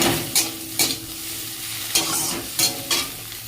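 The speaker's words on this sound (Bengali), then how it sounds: "পেঁয়াজটা ভেজে ভেন্ডিটা দিয়ে দিয়েছি, একটু ভাজা ভাজা করে নিই।" Okra and onions fry in a pan with a steady sizzle, broken by several sharp scraping stirs of a spatula at irregular intervals, close and fairly loud, with no voices.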